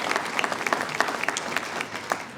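An audience at a medical school Match Day ceremony applauds a university regent, a short burst of dense, lively clapping from a crowd.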